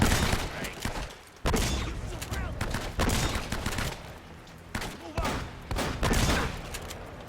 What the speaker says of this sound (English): I think we have to just shoot them with the shotgun from behind cover.